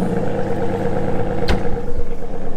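An Aston Martin V12 at a supercar rally gives a brief, loud, steady engine drone up close, with a sharp clatter in the middle.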